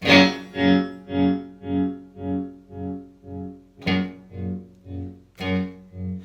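A distorted electric guitar chord pulses in deep, regular tremolo swells from a Roger Mayer Voodoo Vibe pedal at full intensity, fading almost to silence between beats, with two fresh strums restarting the throbbing.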